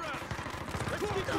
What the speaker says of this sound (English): Geez, so many shots.